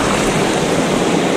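Ocean waves break over rocks in a loud, dense rush of broadband hiss, with wind buffeting the microphone and no voices.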